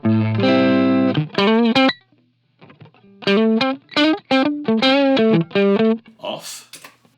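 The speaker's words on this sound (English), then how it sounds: "Now this is what happens with the stereo enhancer in." Electric guitar played through a Line 6 Helix with the stereo enhancer effect engaged, delay and reverb bypassed; a distorted tone rings out in sustained chords and short picked phrases with brief gaps, loud and close.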